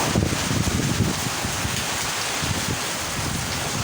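Heavy rain and gusting wind from Typhoon Tino roar continuously, a dense close wash of downpour with low rumbling buffets and no talk.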